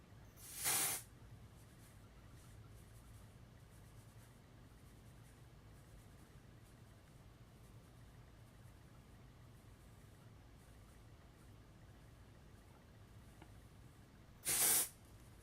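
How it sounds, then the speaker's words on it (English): Dry shampoo sprayed onto hair at the crown in two short hissing bursts, well apart, each under a second, with a quiet background between them. "now we've got our dry shampoo pretty much at the crown of the head"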